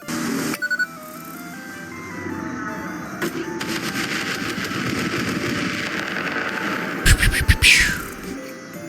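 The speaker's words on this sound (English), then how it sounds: "I guess we're bringing in the New Year's with these fireworks right now." Fireworks go off in the Satisfactory video game: a steady crackling rumble builds into a loud, rapid flurry of sharp bursts near the end.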